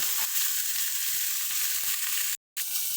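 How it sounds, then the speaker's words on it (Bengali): Broccoli fries in hot oil with a continuous crackling sizzle, broken by soft periodic taps of a spatula stirring the pan and a brief gap of silence near the end. "ব্রকলিটা দিয়ে এটাকে হালকা হালকা নাড়াচাড়া করে একটু ভেজে নেব"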